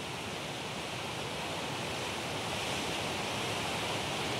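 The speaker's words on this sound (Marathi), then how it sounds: "सकाळपासूनच पाऊस हा आता जोरात बरसायला लागलाय" Heavy rain pouring down steadily near the Godavari river in Nashik, a dense continuous hiss with no breaks, heard alone and fairly close.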